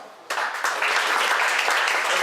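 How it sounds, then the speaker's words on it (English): A school audience applauds a junior honored as Student of the Month, the dense clapping starting abruptly after a brief quiet moment and then holding steady and fairly loud to the end. "So we'll have a round of applause for Laura."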